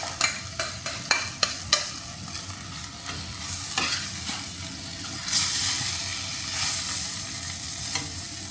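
Sardines sauté in a pan for sardine pasta, opening with a run of sharp utensil scrapes and taps, then a steady sizzle that swells into a louder hiss.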